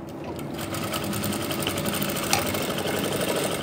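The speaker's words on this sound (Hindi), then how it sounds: "यहाँ पर ऐसे पकड़ा और यहाँ पे हल्की सी आपको सिलाई लगानी है" A sewing machine runs steadily, stitching a garment's shoulder seam, a loud continuous mechanical whir and needle rattle throughout with no voices.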